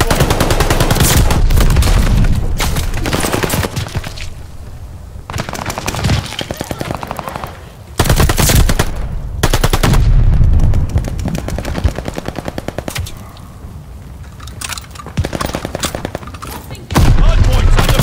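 Automatic and rifle fire rattles in rapid, loud bursts during a Call of Duty Vanguard multiplayer hardpoint match on the Das Haus map, broken by short lulls, with radio-style voice callouts heard between and under the shooting.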